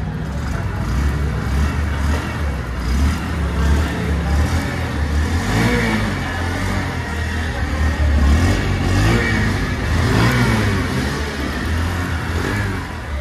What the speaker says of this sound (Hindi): कुछ इस तरीके का यहाँ पे आपको एग्जॉस्ट नोट देखने को मिल जाता है